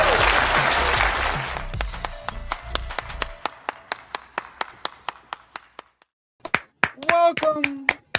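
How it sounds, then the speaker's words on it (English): A small audience claps on request, starting as a brief burst of mixed clapping that quickly thins into sparse, slow individual claps, then a voice speaks near the end. "Please clap."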